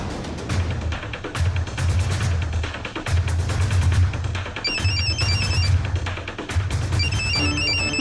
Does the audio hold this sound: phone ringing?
yes